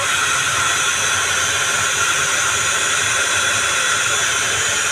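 A blower pushes warm air to dry a wet parrot's feathers, producing a steady, loud, unbroken hiss of rushing air with no pauses and no talking.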